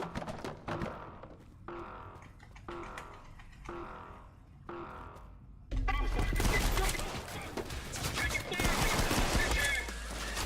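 Gunfire in the shooter game Trepang2 comes first as a string of separate heavy shots, then swells into a dense, continuous barrage of rapid automatic fire and impacts with a loud low rumble.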